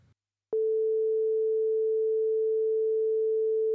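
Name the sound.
single sine wave synthesizer tone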